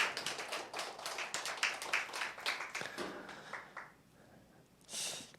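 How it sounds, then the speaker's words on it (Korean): Congregation clapping during a Christmas church service: several seconds of scattered, moderately close hand claps that thin out and stop, followed by a brief soft noise near the end. "다시 한번 우리 사모님께 격려와 감사의 박수 한번 드리겠습니다"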